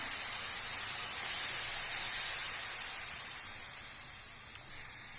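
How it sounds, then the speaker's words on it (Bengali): A small amount of water goes into a pan of cooking drumstick flowers, and a steady broad hiss and sizzle follows. The sound fades slightly toward the end, with no voices. "এবার দিয়ে দেবো অল্প করে জল।"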